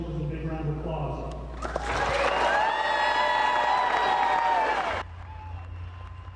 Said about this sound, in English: Join me in giving these soldiers a big round of applause.